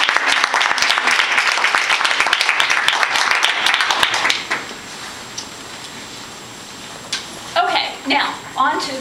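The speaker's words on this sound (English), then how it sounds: "could we just have a little round of applause for them?" Audience applause for students at a Europe Day 2011 celebration: a dense burst of clapping fills the first four seconds, then stops abruptly, leaving quiet room tone before a voice begins talking.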